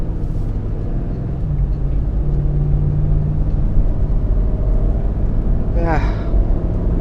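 Steady low engine rumble and road noise from inside a Hummer cruising along back roads, filling the whole stretch evenly, with a short high-pitched vocal squeak near the end.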